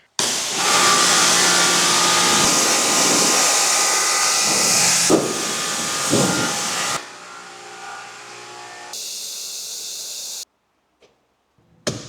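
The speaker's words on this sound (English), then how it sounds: "Let's rinse that off real quick." A pressurized water spray rinses cleaner off a truck wheel at a custom shop, a loud, steady close hiss lasting several seconds that then drops to a thinner spray before cutting off.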